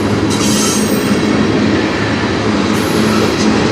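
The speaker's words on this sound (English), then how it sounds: "It's the only train." A train rolls past on the Strathroy Subdivision rail line, a loud, steady roar of wheels and cars close by that fills the stretch, with faint high wheel squeal drifting in and out.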